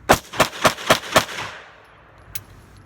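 Five sharp pistol shots from a Smith & Wesson M&P Shield fired after being dunked in mud, evenly spaced in quick succession, loud and close, then a faint metallic click.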